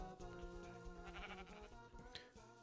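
Sheep bleat in the video game Minecraft, a couple of faint wavering calls set over a busy game soundtrack.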